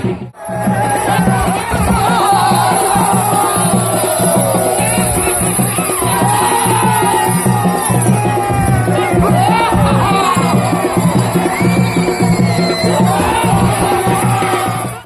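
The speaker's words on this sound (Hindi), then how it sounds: "और ये भीड़ का सैलाब।" A large crowd gathered at an Uttarakhandi Pandav Nritya folk dance performance of the Duryodhan vadh episode produces a loud, continuous wall of murmuring babble and shouts that stays dense and steady throughout.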